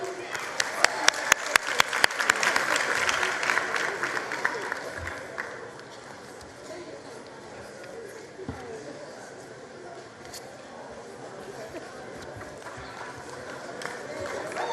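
Audience applause at a matric results announcement, opening with a run of sharp, rhythmic individual claps over crowd clapping, then fading into softer scattered applause with murmuring voices.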